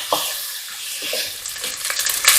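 Bacon frying in a pan, giving a steady bright sizzle and crackle with a few stirring scrapes, close and loud with no talking.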